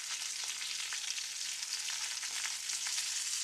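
Cornmeal-coated fish frying in hot oil: a dense, steady crackling sizzle, close and even throughout, with no talking.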